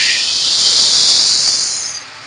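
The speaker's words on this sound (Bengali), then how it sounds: "এবার আদা রসুনের পেস্ট আমি দিয়ে দেবো।" Ginger garlic paste hitting hot oil in a pan after onions have browned: a loud, steady sizzle that holds for about two seconds and then eases off, with no talking.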